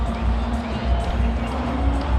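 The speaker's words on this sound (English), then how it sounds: "The crowd realizes late, and hence the smiles and the joy." A cricket stadium crowd roars and cheers after a wicket falls in an India versus Sri Lanka match, a dense, sustained wash of distant voices with no single voice standing out.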